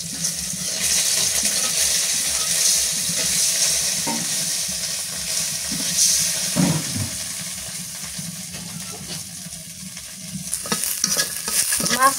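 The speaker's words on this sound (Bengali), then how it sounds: "মাছগুলা সবগুলাই ভাজা নিচ্ছি, নামাই এবার সুন্দর করে ভাজছি একদম লাল লাল করে" Fish frying in hot oil until deep reddish-brown, a steady sizzle with scraping stirs and occasional clinks of a utensil against the pan, close and continuous with no talking.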